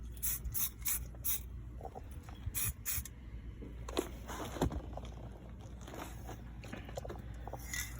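Short hissing bursts of IronLac spray hit a BMW E39 528i brake caliper, some closely spaced, others spread out, with light handling clatter in between.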